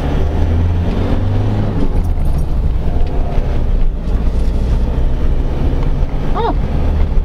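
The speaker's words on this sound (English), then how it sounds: "You do have to rev it out a bit to get it moving though." A modified Ford Transit 2.2 van's engine drones steadily as it pulls away, a loud, continuous low rumble from inside the cab mixed with wind buffeting the microphone.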